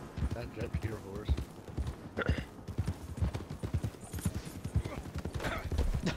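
Hoofbeats of a horse clip-clopping along in the open-world western game Red Dead Redemption 2, with a brief whinny, running steadily under continuous talk from two players.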